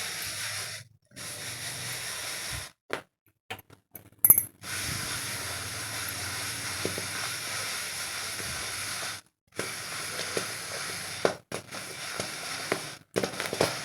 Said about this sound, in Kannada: ನೋಡಿ ಅಲ್ಲೇ ಹಳ್ಳು ಚಟಪಟ ಅನ್ನೋದು ಸೌಂಡ್ ಕೇಳಿಸ್ತಾ ಇದೆ ನಮಗೆ